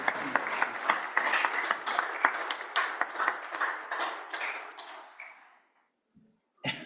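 Applause in a Senate chamber, a steady crowd of hands clapping for several seconds before tapering off into near silence, followed by a short isolated burst.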